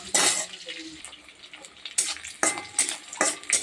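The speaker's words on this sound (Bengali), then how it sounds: "পেঁয়াজ রসুন ভাজা হয়ে গেছে" Onion and garlic sizzle in a hot pan as a utensil stirs and scrapes in bursts, with short quiet gaps between strokes.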